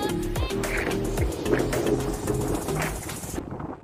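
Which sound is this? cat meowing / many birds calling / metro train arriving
many birds calling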